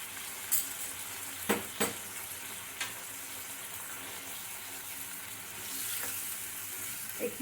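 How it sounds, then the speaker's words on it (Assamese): Masala for a catla fish curry, seasoned with salt and turmeric, fries in a pan with a soft, continuous sizzle. A few sharp scrapes and knocks of stirring break through it, and no one speaks. "এইখিনি আমি ধুনীয়াকৈ ভাজিব লাগিব কেঁচা গন্ধটো যোৱালৈকে"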